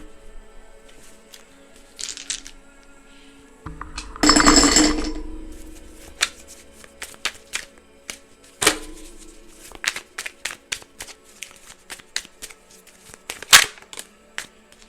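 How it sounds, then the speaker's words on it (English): Index cards are handled and shuffled in a quiet room: scattered light taps and clicks, a brief louder riffle-like burst, then a run of crisp snaps and flicks, with no talking. "let's grab some index cards and then we'll wrap"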